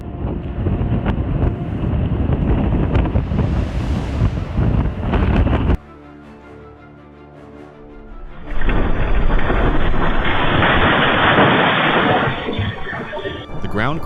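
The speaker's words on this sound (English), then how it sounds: "Press 6 if the sound and sight of these powerful waves gave you chills." Powerful ocean waves crash with a loud, rough roar and heavy wind buffeting the microphone, dropping briefly to a quieter lull before a second surge of thundering surf.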